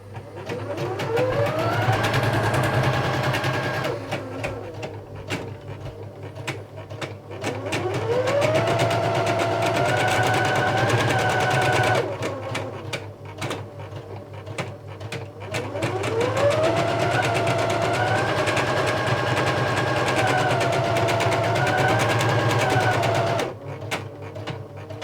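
A Brother PE-190D Disney embroidery machine stitches in three long runs, each a close, steady motorised whirring hum that climbs in pitch as it starts, separated by short pauses with faint clicking.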